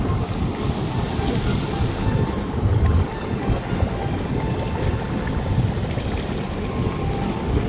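A loud, continuous bubbling and rushing roar of boiling water in a volcanic pool at Tangkuban Parahu close by, steady and turbulent throughout with no voices.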